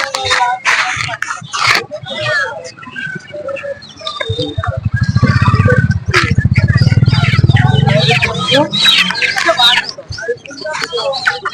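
Roosters and other birds chirp and crow throughout at a busy weekly Saturday livestock market in Ghoti, mixed with steady crowd chatter and nearby voices.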